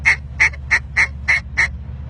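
A duck call blown softly for finishing ducks gives six short, evenly spaced quacks, close and clear, with a low steady hum underneath.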